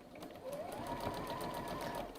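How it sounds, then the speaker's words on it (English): A sewing machine runs steadily for a couple of seconds, stitching quilt squares together with sashing strips between them, a continuous close whirring hum with no pauses. "I'm then going to sew the next one, sash into that."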